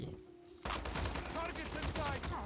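Gunfire in the Call of Duty Mobile video game as a player gets hit, a sudden loud burst of rapid shots following a quieter moment, dense and close for about two seconds.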